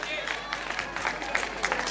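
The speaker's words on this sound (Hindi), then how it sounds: "जोरदार तालियां।" A college fresher party audience fills the hall with dense, continuous applause, a bright crackling wash of clapping mixed with crowd murmur and voices throughout.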